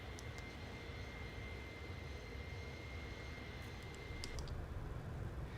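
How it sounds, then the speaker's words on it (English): Airbus A310 airliner engines in a flight simulator, a steady broadband jet roar with a faint sustained whine and a few brief high clicks from the cockpit, no talking. "Do you think the engine sounds are good?"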